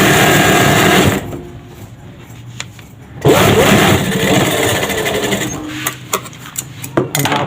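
An electric sewing machine stitches a two-piece shirt collar, its fast whirring hum running loud at first, pausing, then resuming with uneven bursts and stops, close up with a few light handling clicks.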